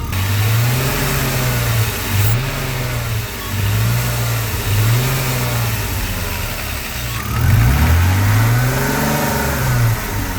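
BMW engine with 260,000 miles idling in a car, a close, steady mid-pitched hum that swells slightly in a few small rev-like rises.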